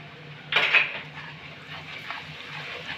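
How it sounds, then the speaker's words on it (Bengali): Frying onions with salt are stirred in a pan, a sharp metallic clink of spoon on pan standing out early, followed by softer scraping and a low background hum. "একটু নেড়ে নেব, 2 থেকে 3 মিনিটের মতন নেড়ে নেব"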